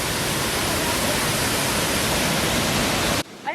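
Kawasan Falls in the Philippines roaring as a loud, steady wash of rushing water, a dense unbroken spray of broadband noise that fills the scene before cutting out abruptly near the end.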